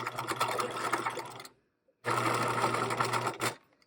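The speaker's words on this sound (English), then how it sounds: "start stitching the top of my waistband to my waistband facing" A domestic sewing machine stitches a shorts waistband to its facing, running in a steady, close whirring burst, stopping briefly, then whirring again at the same speed.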